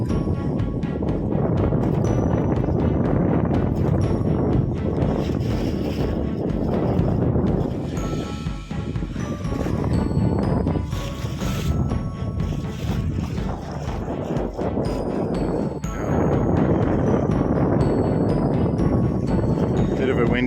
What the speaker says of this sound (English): Splashing off the side of the boat here.